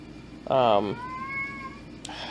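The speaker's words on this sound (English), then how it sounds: "This cat is killing me." A cat from the game Onmyoji gives one clear drawn-out meow followed by a softer trailing tone and a brief squeak, set against a low steady background.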